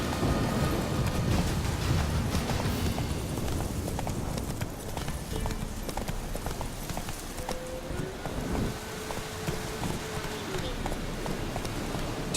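The horse Roach galloping in The Witcher 3, rapid clip-clop hoofbeats driving steadily up close over rain and low rumbling, slowing toward the end, with a voice speaking over it.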